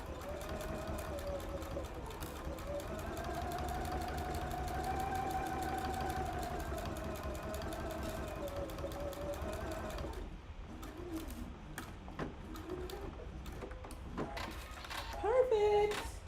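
A sewing machine runs in a steady whirring stitch for about ten seconds, then slows to slower, uneven stitching with clicks, a voice speaking briefly near the end.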